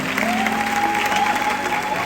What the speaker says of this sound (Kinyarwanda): Reka tubanze dukomere abana bacu amashyi n'abana babo.